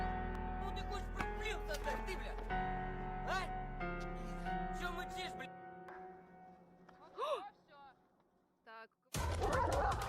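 A tense dog barks and yips in sharp bursts over a loud low rumble, followed by whimpering, with a voice briefly heard.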